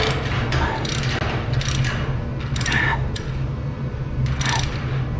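A wrench works on the differential nut of a Cobra Daytona car build, producing quick metallic ratcheting clicks and scraping in short bursts over a steady background hum, close by.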